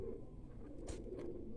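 A sluggish, unwell pigeon coos softly against a low background murmur, with a couple of brief rustling bursts partway through.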